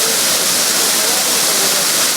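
A forest waterfall drops 11 metres in a steady, loud, broadband roar of falling water that stays constant throughout, with no voices.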